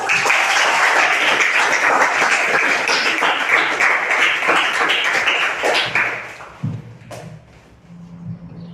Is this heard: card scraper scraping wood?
no